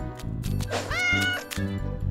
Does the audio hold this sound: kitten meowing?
yes